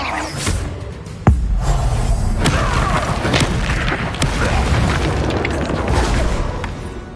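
A Confringo blasting spell bursts in Hogwarts Legacy on PS5, a sharp booming explosion followed by a sustained roar of crackling blasts and debris with a few further thuds over a dense game soundscape.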